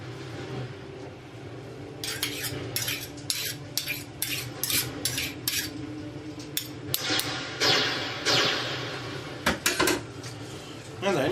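Spoon clinking and scraping against a container while mustard is stirred into a 10-cup coffee brew, a run of quick rhythmic metallic taps over a steady background hum, fairly close.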